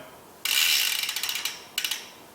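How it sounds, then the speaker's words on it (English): A ratchet tool undoes the pinch bolts on a Hollowtech bicycle chainset, giving a close, bright buzz of fast ratcheting followed by a series of separate clicks, then a brief second burst. "First thing to do with the Hollowtech chain set is to undo the pinch bolts"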